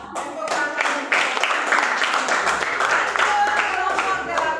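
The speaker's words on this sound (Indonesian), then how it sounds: "Tepuk tangan." Classroom clapping from students after a group presentation, a dense patter of many hands lasting the whole stretch with some voices mixed in.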